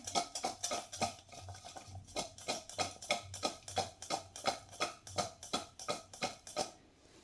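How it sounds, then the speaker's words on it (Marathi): A pot of karela (bitter gourd) with lemon juice is stirred steadily, a spoon scraping and clacking against the metal in a quick, regular rhythm of close, distinct strokes with no voices. "व्यवस्थित मिक्स करून घेऊया"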